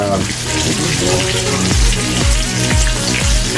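Chicken pieces sizzle loudly and steadily in a hot pan for chicken marsala, a dense frying hiss with a voice speaking over it.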